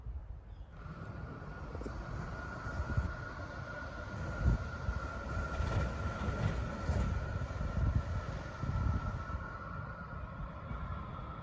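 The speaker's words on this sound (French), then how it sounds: "c'est la voie du métro que je vais vous filmer dans un instant où on voit le métro passer dessus" Lille metro train passing along its track, a steady mid-level rumble and rolling roar with a faint whine that holds throughout, heard from a distance with no voices.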